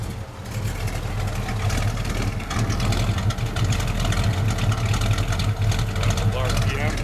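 A 1970 AMC Javelin Trans Am pace car's engine runs steadily and loud up close, a continuous low exhaust rumble with slight rises in revs while people talk nearby.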